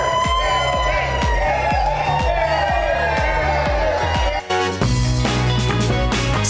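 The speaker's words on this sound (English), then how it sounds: "we got a big crowd right behind us" A big outdoor crowd at a fiesta in historic Market Square cheers and whoops loudly and continuously, with music and shouts layered over a steady roar of voices.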